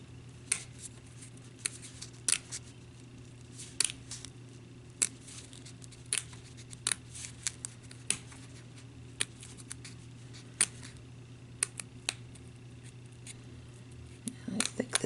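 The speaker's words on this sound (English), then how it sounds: "I'm just going to take my little detail scissors and cut out as much of the white as possible" Small detail scissors cut out paper, making scattered crisp, quiet snips spread irregularly over about fifteen seconds against a steady low hum.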